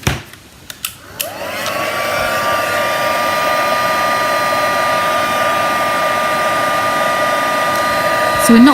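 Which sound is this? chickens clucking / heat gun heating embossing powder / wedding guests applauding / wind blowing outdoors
heat gun heating embossing powder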